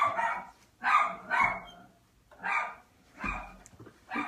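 A dog barks in five separate bursts spread over a few seconds, each a short cluster of sharp barks at moderate loudness, with quiet gaps between them and no talking.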